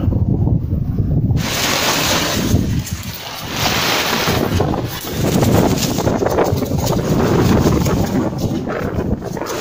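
Strong wind on a shore buffets the microphone in a steady roar, with rushing water and surf underneath throughout.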